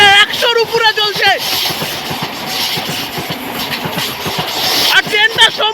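A Vande Bharat sleeper express runs at over 100 with a loud, steady rush and rhythmic clickety-clack of wheels. Sharp tonal blasts rise at the beginning and again toward the end.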